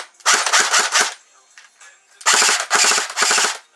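A Sig 556 shorty airsoft rifle fitted with a silencer fires two rapid full-auto bursts, each a fast rattling string of muffled mechanical shots, loud and close with a short pause between them.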